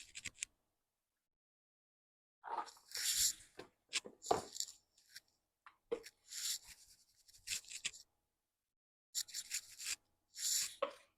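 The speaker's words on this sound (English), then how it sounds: "I'm going to rub the seasonings so they're evenly distributed" Seasonings being rubbed by hand onto raw tilapia fillets: soft, close, intermittent rasping and scuffing strokes in short bursts separated by quiet gaps, faint overall with no talk.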